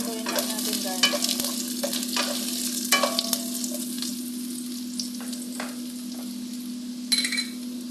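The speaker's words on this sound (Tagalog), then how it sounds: "Pag nag-brown na ang ating bawang, isunod natin carrots, saka yung stem ng broccoli." Garlic, carrots and broccoli stems stir-fry in a hot pan, making a steady close sizzle with repeated scraping and tapping strokes of a utensil. A faint steady hum runs underneath, and no one speaks.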